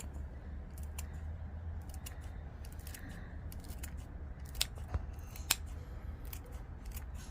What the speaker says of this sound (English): I'll just use the scissors and just clip in.